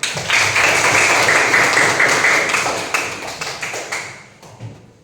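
An audience at a talk on resilience bursts into lively clapping that holds strong, then thins into scattered claps and fades out near the end.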